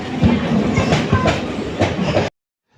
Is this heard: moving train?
yes